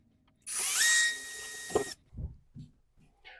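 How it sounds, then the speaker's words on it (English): A power drill bores a 1/4-inch pilot hole for shower door anchors in one loud burst of about a second and a half, its whine rising as it spins up, followed by a few soft taps. "we want to drill 2 1/4 inch pilot holes"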